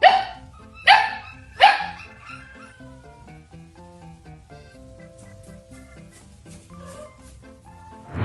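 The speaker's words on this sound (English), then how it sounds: "one overconfident dog picks a fight with a cat" A dog barks three times in quick succession near the start while squaring off against a cat, sharp and loud, followed by quieter tonal background sounds with no further barks.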